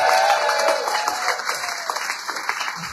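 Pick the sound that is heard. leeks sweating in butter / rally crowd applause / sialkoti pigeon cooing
rally crowd applause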